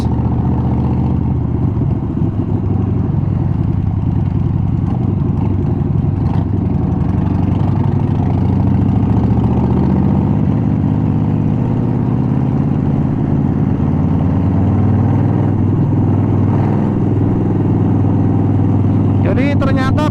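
Harley-Davidson Roadster 1200 motorcycle engine while riding: a steady low, rumbling drone, loud and close, with gradual pitch shifts as the revs change and a rider talking over it.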